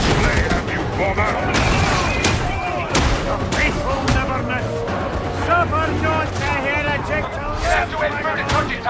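Video game gunfire cracks in rapid, repeated bursts while voices talk and exclaim over the shooting almost the whole time.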